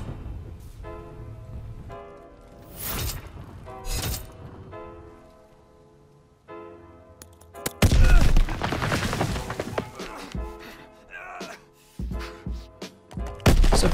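Grenade thrown and landing on the WW2 Gibraltar map of a shooter game, with several sharp thuds and bangs, then a loud burst of explosion and gunfire noise in the second half over background music.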